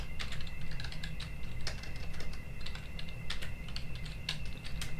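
Fingers tap steadily on a computer keyboard, producing quick, close clicks in uneven bursts, with no voices over them.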